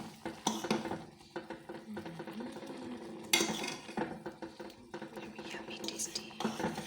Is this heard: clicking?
no